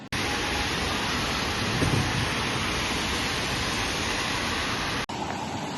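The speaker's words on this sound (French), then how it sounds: "Je suis en train de courir, il pleut tellement." Heavy rain pours down during a marathon training run as a dense, constant roar, loud and close throughout with no voices, cutting briefly near the end.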